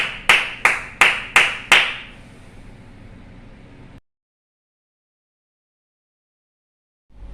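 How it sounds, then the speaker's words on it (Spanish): Clapping in a church Sunday school gathering as the congregation offers loud applause to the Lord: six sharp, evenly spaced claps close by, then fading room noise and silence. "Bríndale ese fuerte aplauso al Señor."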